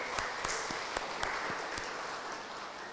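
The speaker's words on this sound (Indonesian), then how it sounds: "kita beri tepuk tangan kepada mereka semua" A church congregation applauds Sunday school members and teachers, scattered hand claps with a few sharp distinct claps over a soft murmur of clapping, fading toward the end.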